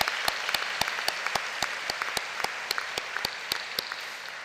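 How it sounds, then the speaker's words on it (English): Sparse clapping from a small group at a law school commencement, a dozen or so distinct claps spread evenly over a few seconds, with no talking. "Can I get a round of applause?"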